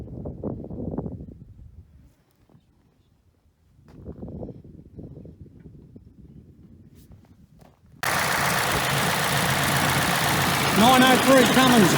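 An old Cummins diesel engine idles steadily and close by, a dense rumble that starts suddenly after a stretch of quiet, faint speech and runs loud and even to the end.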